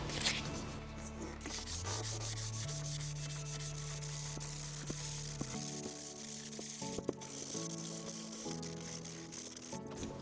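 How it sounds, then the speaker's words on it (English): Fine sandpaper rubs over an IKEA bowl in steady close strokes, a continuous gritty scratching that runs throughout under music, with no talking. "Next up, I'm going to use a finer sandpaper just to smooth everything out."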